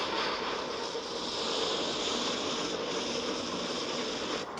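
Submarine propellers cavitating as engines run full astern in the film The Hunt for Red October, a steady, loud broadband churning rush with no talk over it.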